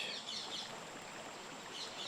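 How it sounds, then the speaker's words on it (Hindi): Assorted birds chirp and sing on the bank of the Tungabhadra river, bright high calls rising and falling over a steady broadband wash that may be flowing water, fairly soft and continuous throughout. "तरह तरह के पक्षियों की आवाज़"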